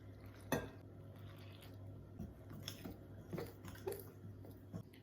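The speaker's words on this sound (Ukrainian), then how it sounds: "І так вимішую виделкою, такою великою, можете ложкою." A fork mixing dough with boiled water in a bowl scrapes and taps quietly in an irregular rhythm, soft close-up stirring sounds over a low steady hum.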